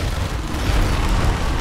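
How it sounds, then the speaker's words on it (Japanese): A roaring blast in Monster Hunter World: Iceborne during a fight with Uragaan, a loud, continuous, rumbling wash of noise with no pauses, heard alone. "爆発する。"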